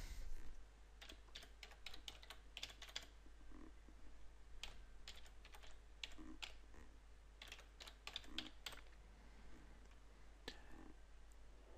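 Computer keyboard typing in irregular bursts of quiet clicks, with pauses between runs, steady low hum underneath, no voices.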